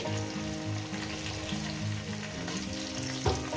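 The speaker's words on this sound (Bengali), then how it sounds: "এটা আমি সুন্দর করে লাল লাল করে ভেজে নেব" Potatoes frying in oil, giving a dense, steady sizzle and crackle heard close and continuous, with a faint knock near the end and no voices.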